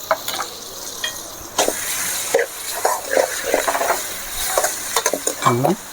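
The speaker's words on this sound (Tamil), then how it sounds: "கொஞ்சம் நல்லா பச்சை வாசனை போகிற அளவுக்கு வதக்கணும் அது கூடவே கரம் மசாலா அதையும் சேர்த்துக்கலாம்" Coriander powder and garam masala being sautéed in a pan for chicken kurma, a soft sizzle under intermittent scraping stirs with a spoon, with a few clinks of the utensil against the pan.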